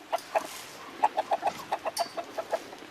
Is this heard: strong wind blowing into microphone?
no